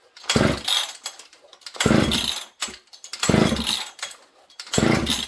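An old 266 chainsaw being pull-started in a shop, its engine catching in four loud sputtering bursts of roughly a second each, separated by quiet gaps, close and with no voices.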